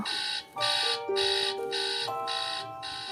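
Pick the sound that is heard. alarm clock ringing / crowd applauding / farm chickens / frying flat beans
alarm clock ringing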